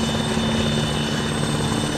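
Helicopter in the military video game Arma 3, a loud, close, continuous rotor and engine drone with a steady whine, no voices.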